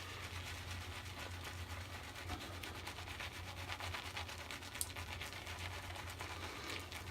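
A shaving brush whipping Barrister & Mann soap into a face lather, a continuous close, soft scrubbing and swishing rub with a fast repetitive rhythm, quiet and alone.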